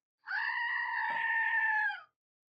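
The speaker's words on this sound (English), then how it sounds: "I have a screaming goat" A screaming goat sound effect gives one long, loud, strained bleating scream lasting nearly two seconds, steady and nasal, with silence before and after.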